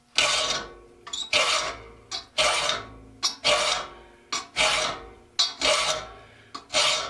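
Hand file sharpening the teeth of a saw, shaping a broken tooth to a point: a steady series of about ten rasping strokes, each a loud bright scrape with short pauses between, close and alone.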